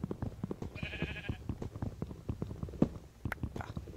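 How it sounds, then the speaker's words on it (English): A sheep in a survival video game lets out a short bleat partway through, amid a rapid run of repeated punching thuds and footstep-like clicks. "That sheep is not in my video."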